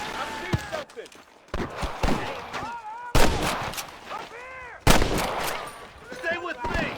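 Gunfire in the Western video game Red Dead Redemption, several sharp, loud shots fired at irregular intervals during a battle, mixed with voiced character dialogue and ricochet-like whines.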